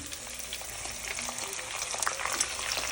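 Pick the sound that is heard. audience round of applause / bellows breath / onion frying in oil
onion frying in oil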